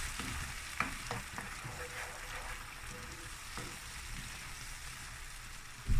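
Garlic and a spoonful of pepper paste frying in a pan, a soft steady sizzle with a few light stirring scrapes early on, fairly quiet and close.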